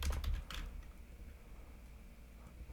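Fingers typing on a computer keyboard, a quiet run of soft, closely spaced key clicks heard up close in a calm room, with a slightly busier burst at the start and no speech.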